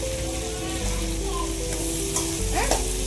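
Fish curry ingredients sautéing in a hot pan, a dense, close sizzle with stirring throughout and some faint background voices.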